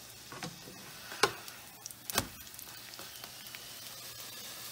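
Leek cakes frying in a pan give off a faint, steady sizzle, broken by a few sharp pops and ticks, with no talk.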